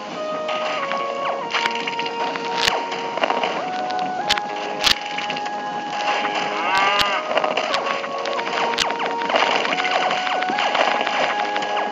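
Cow mooing in the video game Super Mega Worm Lite, a short low call set against busy game music and sound effects that run throughout.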